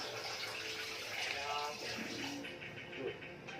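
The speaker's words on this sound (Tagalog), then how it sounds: "Yan na, malakas ng tubig ah." Water gushes steadily from a tap, a continuous rushing hiss with voices talking over it.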